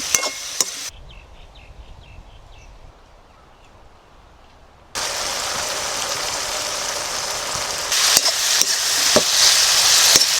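Chicken pieces sizzle and spit in a hot pan for honey chicken in an outdoor village kitchen, a loud steady frying hiss that swells abruptly as the meat goes in and crackles on.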